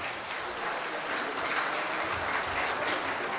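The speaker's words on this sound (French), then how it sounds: "on nous applaudit l'orchestre septentrional" A crowd at an honours ceremony applauds Orchestre Septentrional, producing a steady, distant wash of clapping with no talking heard.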